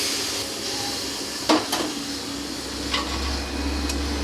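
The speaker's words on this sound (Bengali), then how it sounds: "হালকাভাবে নাড়াচাড়া করে নেব।" Utensil scraping and stirring aubergine curry in a pan, a few soft knocks against the metal over a steady low hiss of cooking, with no talk.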